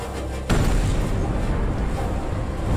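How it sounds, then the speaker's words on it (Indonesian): A loud explosion bursts at about half a second into an action film scene, cutting off the quieter sound before it, then a sustained roaring rumble of blast and debris continues to the end. "Marco dapat menemukan markas Ishak dan Russell lalu membuat ledakan"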